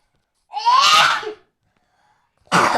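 One loud, close sneeze with a sharp, breathy burst, then a short silence before a second sudden noisy burst starts.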